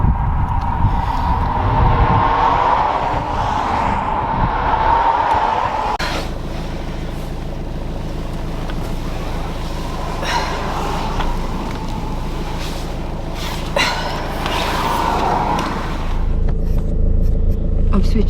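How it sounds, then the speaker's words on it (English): A camper van in a wintry UK setting rumbles as it starts up and drives off, its low engine drone steady with a few knocks and clunks, and a voice talking briefly at the start. "So I'm gonna drive to the other parking spot now."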